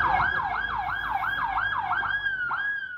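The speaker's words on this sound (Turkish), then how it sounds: "Sirenler çaldı, ekipler hızla müdahaleye başladı." A fire truck siren wails loudly and steadily during a school fire drill, its rising and falling tone cycling quickly and continuously, close by with no talk over it.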